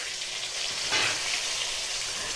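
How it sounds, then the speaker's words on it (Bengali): Strips of potato fry in oil left in a kadai after cumin tempering, a steady close hiss that swells into a louder crackling sizzle as they go in. "এবার দিয়ে দেবো লম্বা লম্বা করে কেটে রাখা আলু।"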